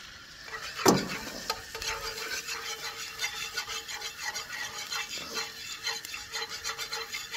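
Tomato paste bubbling in a pan for diablo chicken tacos, with a steady low sizzle broken by a sharp scrape near the start and repeated rubbing, scraping stirs close by.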